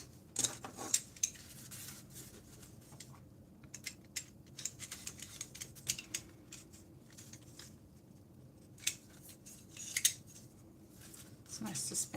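Scissors cut watercolour paper to size with a series of crisp, irregular snips and rustles, some sharp clicks standing out over quiet room tone, with soft talking at times.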